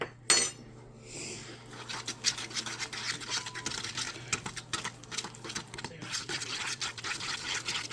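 A spoon stirs sugar cookie mixture in a bowl during Christmas baking, giving repeated soft scraping and light clinks against the bowl at close range in a quiet room.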